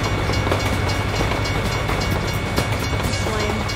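A train passing in American Truck Simulator gives a steady loud rumble with faint rhythmic clickety-clack of wheels on rails. It plays throughout with no talking.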